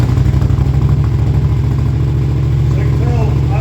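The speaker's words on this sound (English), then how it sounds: "So you can tell, idle already sounds a lot better." A Yamaha R7 motorcycle fitted with a Dominator aftermarket exhaust idles steadily close by, a deep even burble with a faint clatter running through all of it and no talk heard.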